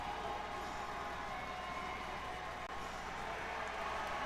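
Hockey crowd in an arena roaring and cheering after a fight during an Amarillo Wranglers home game, a steady dense wash of voices holding loud for several seconds without a break.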